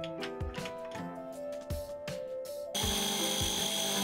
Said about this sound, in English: So I'm trimming it down on the manual mill to the final thickness.